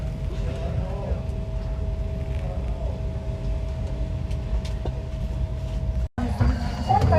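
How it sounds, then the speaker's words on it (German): A moving train carries passengers through Hamburg, heard from a seat inside as a steady low rumble and hum with a faint murmur of voices. The sound briefly cuts out near the end before resuming. "So Leute, ich sitze schon im Zug."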